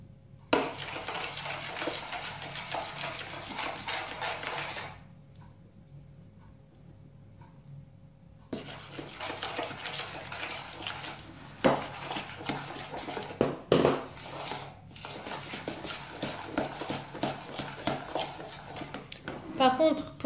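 Cake batter for an easy marble cake being stirred with six tablespoons of milk in a bowl, with a utensil clinking and scraping against the bowl in repeated bursts and a pause in the middle.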